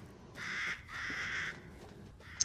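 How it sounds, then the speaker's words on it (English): Two loud, harsh crow caws sound one after the other in Resident Evil Village, each about half a second long, with a short click right at the end over quiet game ambience. "I think you got a crow."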